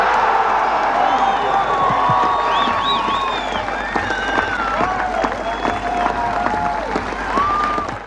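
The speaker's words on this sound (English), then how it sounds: "Listen to how the audience bursted with applause." A large crowd bursts into applause and cheering at Ronald Reagan's Berlin Wall speech, loud sustained clapping mixed with whoops and raised voices, heavy and continuous throughout.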